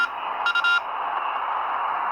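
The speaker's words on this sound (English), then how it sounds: "It tells us it sends a Morse code U." An amateur radio transceiver tuned to 14.250 MHz upper sideband sends a brief Morse code U as two short beeps and a longer tone, over a steady band hiss that continues afterward.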